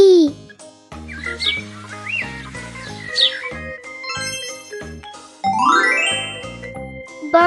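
A few bright, quick bird chirps and tweets pop out over a cheerful, jingly children's music track.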